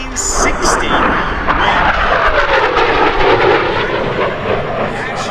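An AV-8B Harrier II jet roars loudly in a high-speed pass at an airshow, a continuous broadband engine rumble and whine filling the whole stretch, with voices audible.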